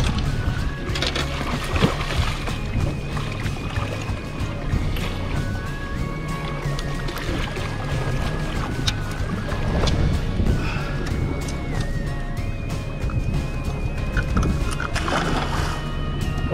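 A boat engine runs steadily while trolling for spring salmon near Esperanza, a low constant rumble with engine tones that shift slightly in pitch, heard close and continuous.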